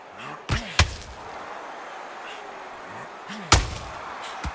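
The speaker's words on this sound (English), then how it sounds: "And he wasn't ready for that counter punch" A counter punch lands in the Undisputed boxing video game, Mike Tyson against James "Buster" Douglas, as a few heavy booming impacts, two close together and then another, over a low steady background.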